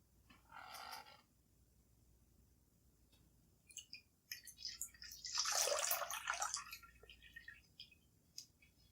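Water splashes and pours in short, irregular bursts, quiet and close, with a louder spattering stretch in the middle and faint drips around it.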